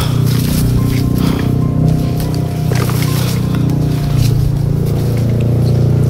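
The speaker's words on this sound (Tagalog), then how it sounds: "May narinig akong" A motorboat passing on the water, a loud, steady low engine drone with churning water noise, holding close and constant throughout.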